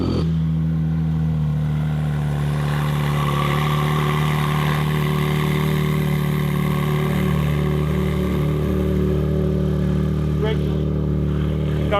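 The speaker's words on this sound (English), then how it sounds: "You need a little cold start for us in your Porsche?" A Porsche engine after a cold start runs at a steady, loud idle throughout, a continuous mid-pitched drone with little variation and no talk over it.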